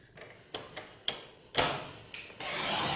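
White paper being cut for a handmade card, likely on a paper trimmer: a run of short rasping strokes and clicks, then a longer, louder scraping slice near the end, close by with no talking.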